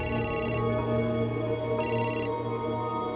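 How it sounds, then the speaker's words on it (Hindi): A telephone rings in two bright electronic bursts separated by a pause, loud and clear over a steady background hum, with no talking. "ले, तुम्हारे छोटे भाई का फोन है।"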